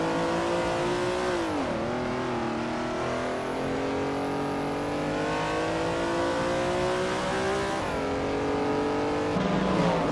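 A 1966 Lola T70 Mk III Ford race car engine in a racing game, a loud sustained roar with pitch drops at gear shifts and rising revs, running continuously.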